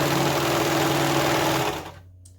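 A serger stitching together a DIY hooded scarf runs in a steady, loud, fast mechanical whir for about a second and a half, then stops and winds down into near silence.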